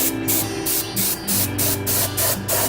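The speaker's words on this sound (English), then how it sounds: "I think my airbrush is clean enough to spray this." An airbrush sprays paint onto a Screamin Freddy Krueger figure, a close, hissing spray in a steady run of short bursts with brief pauses between them.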